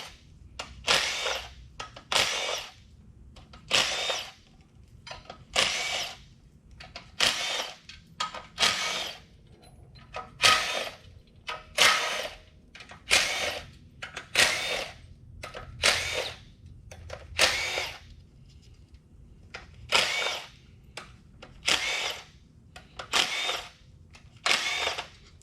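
An impact tool zips out 8mm bolts from a 2.5L Duratec engine, about twenty short loud bursts in a steady rhythm, each separated by brief pauses, close up with no talking.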